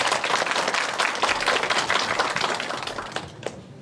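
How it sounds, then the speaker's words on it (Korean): An audience at a citizens' academy presentation applauds to welcome the presenting team: dense, continuous clapping that stays strong for about three seconds, then tapers and fades. "큰 박수로 맞아주시기 바랍니다"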